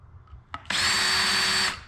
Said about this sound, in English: I'm trying to be careful to just drill out the rivet